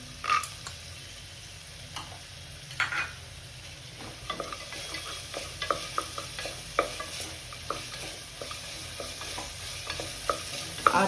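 Cashew nuts frying in oil for tomato rice, a soft continuous sizzle with scattered pops and the light clicks and scrapes of stirring, fairly quiet overall.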